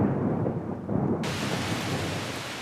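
A thunderstorm with heavy rain: deep rolling thunder rumbles under a dense steady hiss of rainfall that brightens and fills out partway through, loud and immersive.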